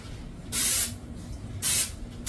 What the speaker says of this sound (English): you could just spray your knife with some kind of cooking oil